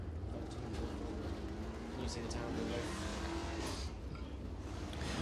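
A dirt late model crate race car with a Black Diamond chassis and Platinum race engine roars around Crossville Speedway in Tennessee, a steady distant engine drone with a PA announcer talking over it.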